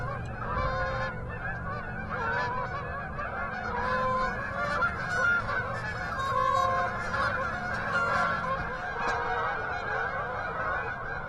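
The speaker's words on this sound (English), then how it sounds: "do you see the geese coming, son?" A flock of Canada geese (honkers) honking continuously overhead during an Arkansas goose hunt, many overlapping calls close and loud, with no talking.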